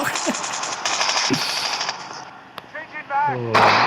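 Rapid automatic gunfire rattles in Call of Duty Mobile in repeated bursts, with scattered single shots and game effects, and a voice briefly heard near the end.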